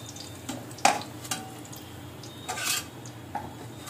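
Fried onion beresta is scooped out of a hot oil pan in a home kitchen, with a few sharp metal clinks of utensil against pan and soft scraping rustles, spaced irregularly and fairly close.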